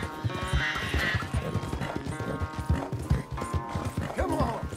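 A horse in the video game Red Dead Redemption trots with steady clip-clopping hooves and lets out a whinny near the start and another at the end, all fairly close.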